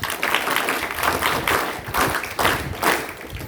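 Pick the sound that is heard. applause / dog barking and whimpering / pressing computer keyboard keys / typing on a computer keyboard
applause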